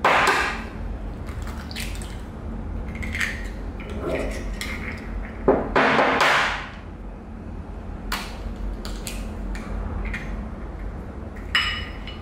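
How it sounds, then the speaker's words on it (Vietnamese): Eggs are whisked straight into a bowl of chopped onions, giving quick clinking taps of utensil against bowl in short bursts, with someone talking over parts of it. "bây giờ Moon sẽ đánh trứng thẳng vào cái chén hành này luôn"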